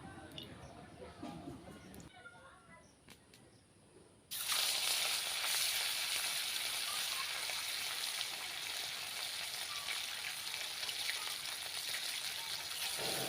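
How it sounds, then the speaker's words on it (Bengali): Turmeric- and salt-rubbed fish drops into hot oil in a wok at an outdoor cooking spot, bursting into a loud, steady sizzle after a few quieter seconds of background noise. "কড়াইতে তেল দিয়ে মাছটাকে আগে ভেজে নিই"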